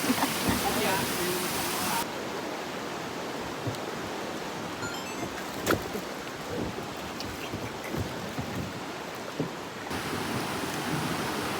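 Strong river current near Pagsanjan Falls in Laguna, Philippines, as a loud, constant broadband roar of rushing water fills the whole stretch, with occasional splashes and faint voices underneath.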